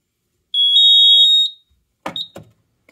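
A single loud, shrill electronic fire alarm tone sounds for about a second during a fire alarm system test, followed by two short clattering clicks.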